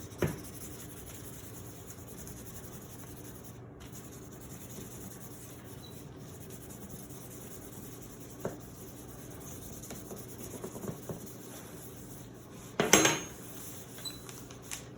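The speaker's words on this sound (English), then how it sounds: "you print it by using either your fingers or works best is a spoon" A spoon is rubbed over paper laid on an inked printmaking plate, making a quiet, steady scratchy rubbing with one brief sharper scrape near the end and no talking.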